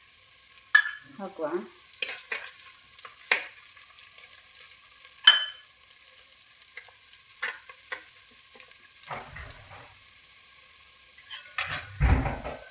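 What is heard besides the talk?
curry leaves frying and stirred in a pan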